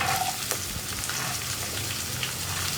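Sliced onions hit hot oil for an egg curry, giving a steady close sizzle with a faint spatter of pops and light stirring throughout, no voices.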